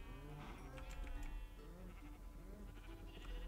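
Sheep bleat in the video game Minecraft, several overlapping wavering bleats repeating across the moment at moderate volume, with no talk over them.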